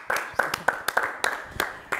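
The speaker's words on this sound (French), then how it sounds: "Encore une fois, on vous applaudit." Scattered claps from a French television studio audience, a handful of sharp separate hand strikes at a loose, uneven rhythm over roughly two seconds, close and moderately loud with faint background murmur.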